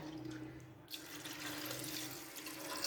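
A jug of water is poured over beef in a cooking pot for yakhni pulao, making a steady, hissing splash that starts abruptly and continues evenly, close and alone without speech.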